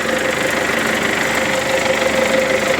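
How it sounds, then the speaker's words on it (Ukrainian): A tractor engine runs close by with a steady, even hum and no pauses. No voices are heard. "Це трактор в роботі я вам показав"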